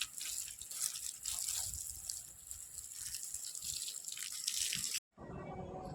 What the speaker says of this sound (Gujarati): છોટી દઈએ પાણી